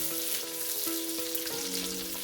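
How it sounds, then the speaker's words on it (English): Onions sizzling and frying in a pot for a one-pot meal, with a steady close crackle and a few soft stirring clinks and scrapes, no voices. "Going in with the onions."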